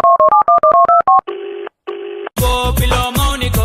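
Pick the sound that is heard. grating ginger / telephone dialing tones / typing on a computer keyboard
telephone dialing tones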